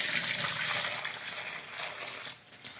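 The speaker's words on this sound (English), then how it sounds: "it better be poured right into a colander in the sink" Cooked macaroni poured from the pot into a colander in a kitchen sink, a steady close rush of water and splashing that holds for nearly three seconds before tapering off.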